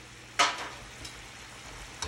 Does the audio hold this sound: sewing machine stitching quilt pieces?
no